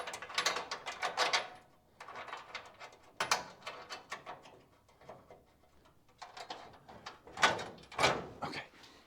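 A ratchet clicks in repeated bursts while tightening the bolts on a car bumper during a crew cab Charger restoration. The nearby mechanical rattling comes in uneven spurts with short pauses between them.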